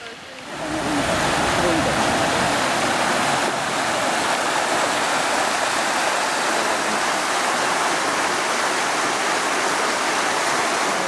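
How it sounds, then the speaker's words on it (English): A small waterfall at the Fairy Pools in Scotland pours in a steady, loud rush of falling water that fills the scene from start to finish, broad and continuous with no pauses. "There's this little waterfall here"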